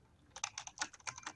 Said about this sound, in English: I'll type in chat and ask them.